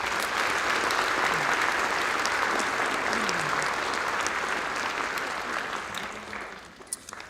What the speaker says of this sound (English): And another round of applause, please.